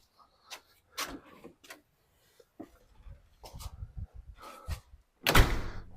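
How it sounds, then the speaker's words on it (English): Front door of a farmhouse with a pool and workshop swinging open and thudding shut, a few close knocks and clunks ending in one loud slam, with footsteps and light handling noises between. "So when you're coming in to the front door"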